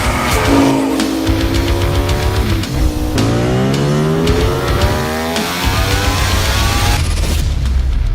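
A Ducati Panigale V4 S superbike engine accelerates hard, its loud rasping note climbing through rising harmonics, dropping briefly on gear changes, then surging again close and alone with no voices.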